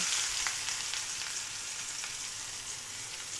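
Small baila fish frying with onion in a pan, a continuous bright sizzle with faint crackles, steady and close throughout.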